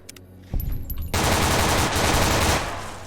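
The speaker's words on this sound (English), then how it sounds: "Don't stand in front of this guy with a submachine gun." Submachine gun fire in Fallout: New Vegas erupts as a loud, dense, continuous burst of rapid shots lasting a couple of seconds, preceded by a few scattered closer shots.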